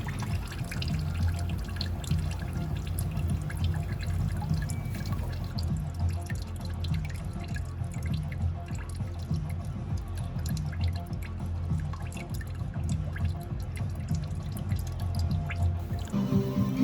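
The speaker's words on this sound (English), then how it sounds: "We're just going to keep letting it drain, get as much of that old coolant out as we can." Old coolant drips steadily as it drains from a Mazdaspeed 3 (Axela MPS), a continuous close trickle of liquid falling into a container, with no talk over it.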